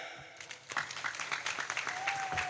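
Applause from the congregation at a Maulid religious gathering, scattered claps building into steady clapping after a quiet start, fairly faint and distant with some murmured voices.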